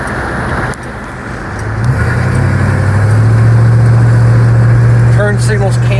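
A 1962 Chrysler Newport on the road, engine droning steadily from inside the cabin as it pulls away and builds a low sustained hum, with road noise throughout and a voice talking at points.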